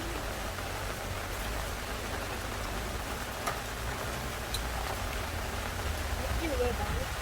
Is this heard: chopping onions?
no